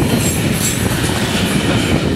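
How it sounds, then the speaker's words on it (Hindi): A train on the down line at a station in light rain rolls past close and loud, a dense unbroken roar of wheels with rhythmic clickety-clack and a hint of squeal, no voices. "साथ में डाउन की भी एक ट्रेन आ रही है"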